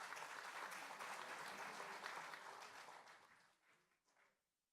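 An audience at a policy forum in the National Assembly members' hall applauds warmly to welcome a speaker, dense clapping that holds steady and then thins out into a few scattered claps before silence.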